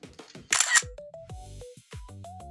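A Kodak Charmera toy camera gives a short burst of shutter clicks, set among a run of bright electronic beeps and tones from the device.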